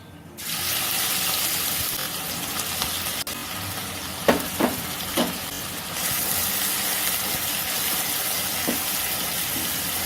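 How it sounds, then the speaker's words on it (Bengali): Grated onion dropped into a pan of hot oil with cumin seeds for a Punjabi-style rajma curry, a loud, steady hiss like rushing water with a few scraping stirs in the middle, no voices. "এখানে আমি দিয়ে দেব গ্রেট করে রাখা পেঁয়াজ"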